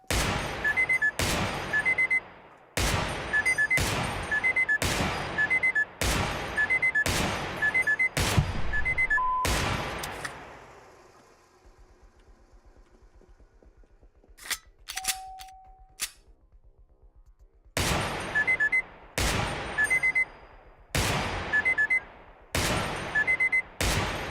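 Gunshots from the Receiver 2 shooting game ring out in sharp, evenly spaced bursts of loud cracks, pause for a stretch of quiet mechanical handling clicks, then resume with more regular rounds of shots.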